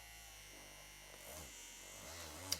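A cordless iDOO wand massager gives off a steady, quiet electric buzz for a few seconds, with a slight shift in pitch partway through and a small click near the end.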